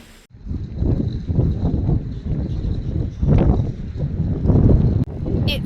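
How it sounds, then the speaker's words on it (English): Gusty wind buffets the microphone in low rumbling bursts while people talk close by. "It's so windy."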